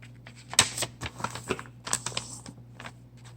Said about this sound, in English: I'm just going to be folding the papers